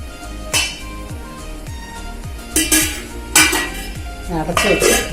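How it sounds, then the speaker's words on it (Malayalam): A clay pot of Kollam-style fish curry is swirled on the stove, and its contents scrape and slosh. Loud ceramic clinks and knocks land in bursts over a rhythmic low thumping. "ചട്ടി എടുത്തൊന്ന് ചുറ്റിച്ചു കൊടുക്കണം."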